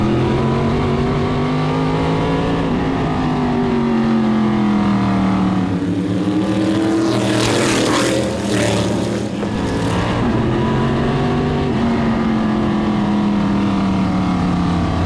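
Race cars racing at Florence speedway, heard from inside a car: a loud, continuous engine drone that rises and falls with the laps, with a louder burst as other cars close in alongside.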